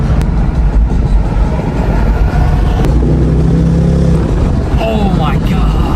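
Rebuilt 2025 Ford Mustang GT V8 engine running loud and close, with a rumbling idle that rises into revs, while excited voices talk over it.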